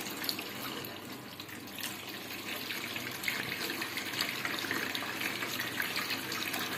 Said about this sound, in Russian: Еще доливаем воду.